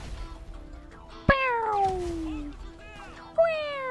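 A human voice imitates a cat, giving two drawn-out, sliding meows a couple of seconds apart, loud and close, over low background game sound during a GTA Online session.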